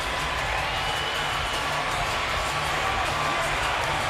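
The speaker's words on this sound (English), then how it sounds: "Crowd is still going crazy" Boxing crowd cheering after a Terence Crawford versus John Molina Jr fight: a steady, dense roar of an arena audience, loud and unbroken, with voices blended into the noise.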